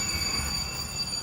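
A recording of a diesel-electric locomotive plays as a steady, dense rumble with a high metallic whine on top, continuous and fairly close for about a second.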